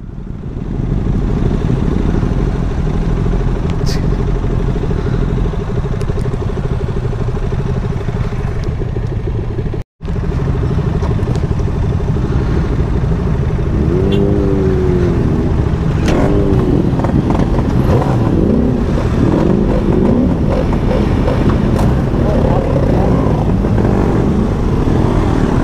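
A Kawasaki ZX10R superbike's exhaust rumbles loud and close, holding a deep throbbing note before climbing and falling through several revs over a constant engine roar.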